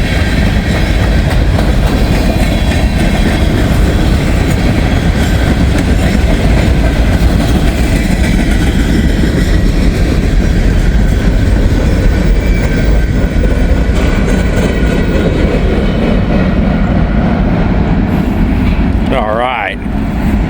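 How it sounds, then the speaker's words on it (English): A long BNSF freight train rumbles steadily past close by, wheels clacking over rail joints, loud throughout, with a brief metallic squeal near the end. "That was a good train right there."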